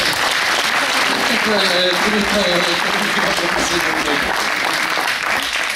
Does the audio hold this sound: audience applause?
yes